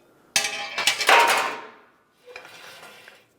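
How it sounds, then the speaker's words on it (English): Metal parts clank and rattle as a radiator support is pulled from a 2012-2020 Ford Focus, a loud burst of clatter followed by a quieter second rattle, close by with no talking. "I'm going to remove this radiator support and get this out of the way"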